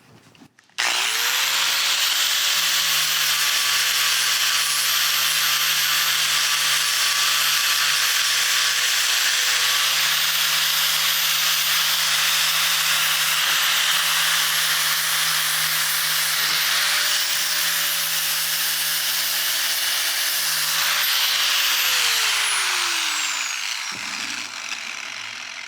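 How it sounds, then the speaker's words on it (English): An angle grinder steadily grinding rust off Jeep CJ7 body metal down to bare steel, a loud continuous high whine with slight pitch dips as pressure changes, winding down at the end. "So I've got to grind it down to bare metal."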